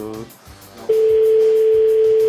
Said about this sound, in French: Ça sonne, deuxième sonnerie.